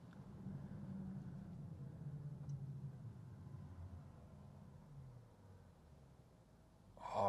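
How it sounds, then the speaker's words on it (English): Low, steady electric motor hum from a Volvo XC40 Recharge as regenerative braking slows it to a stop, a deep rumble under faint road noise that fades near the end before a brief louder burst. "the motors sound amazing when the regen slows you down to the stop"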